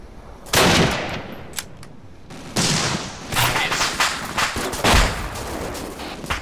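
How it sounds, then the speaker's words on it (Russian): Machine gun fire in ArmA 2, loud rattling bursts of rapid shots, close and heavy, in several long volleys with brief pauses between them. "Сзади откуда-то, пулемет."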